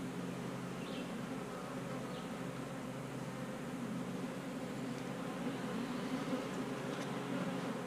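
A honeybee colony in a nuc hive, made from a swarm cell, hums in a steady, dense buzz that holds at a constant moderate level throughout.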